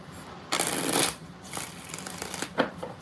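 Tarot cards being shuffled in a quiet room: a dense riffling burst lasting about half a second, then several lighter flicks and a sharp snap near the end, with no talking.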